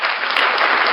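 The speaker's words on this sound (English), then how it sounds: "Round of applause for the Doobie Brothers." A short, dense burst of audience applause for the Doobie Brothers, loud and even throughout, with no voices rising above it.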